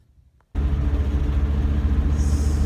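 A straight-axle truck fitted with new Rough Country N3 stabilizers cutting in suddenly after a quiet moment, then a steady loud engine and road rumble as it drives along just off the freeway.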